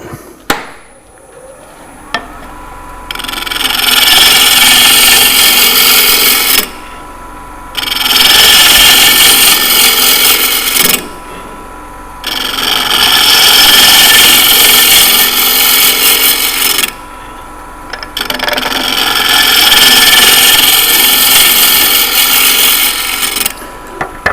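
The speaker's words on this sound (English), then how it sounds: "These nice sharpened bowl gouges really make a big difference, Bruce." A sharpened bowl gouge cuts wood on a spinning lathe in loud, broadband bursts of several seconds each, separated by short pauses as the tool is lifted from the workpiece, at a woodturning club meeting.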